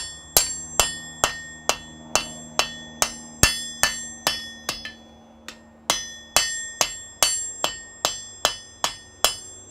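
Hammer blows ring out on a rivet in a smithy, about twenty sharp metallic strikes in a steady rhythm with a brief pause midway, each one close and ringing briefly before the next, with no talk.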